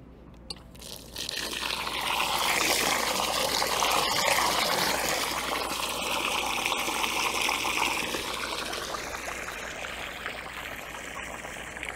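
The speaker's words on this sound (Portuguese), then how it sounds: "Agora vou pôr mais água para estender." Water pours steadily into an iron bathtub, a continuous, fairly faint gushing trickle that starts after a brief pause and runs the whole way through, easing slightly toward the end.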